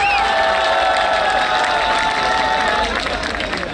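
Crowd noise at a Punjabi poetry recital (mushaira) at an international Punjabi conference in Lahore, steady clapping and cheering throughout, loud and dense, with a whistle-like tone near the start.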